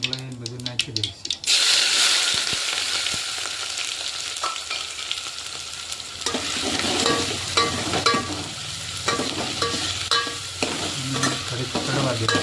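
Tomatoes, chillies and onions hit a hot pan for a Gujarati brinjal oro dish, starting with a sharp sizzle and continuing as steady frying crackle with scraping stirs and brief clinks. A voice talks intermittently over the cooking.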